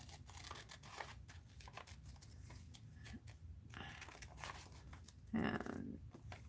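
Scissors snipping through paper to cut out a picture of a basket, quiet irregular crisp snips and paper rustling close by, with a brief louder crinkle near the end.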